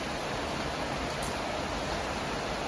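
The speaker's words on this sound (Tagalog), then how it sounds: "Magdamag hanggang ngayon na ulan." Steady, dense hiss of heavy rain pouring continuously through the night, a broad even roar with no breaks or voices.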